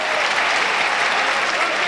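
A stadium crowd at a Burnley v Blackburn Championship football match claps steadily, a broad, loud wash of applause holding even throughout.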